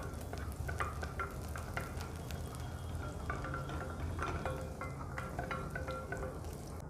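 Chopped garlic stirred in a hot pan, with steady frying and sizzling under repeated scraping and clinking from a utensil, continuous and close with no talking.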